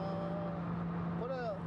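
A modified Nissan 30Z with 89 mm pistons and a 3.2-litre displacement drones steadily from inside the cabin while driving, with people talking over it.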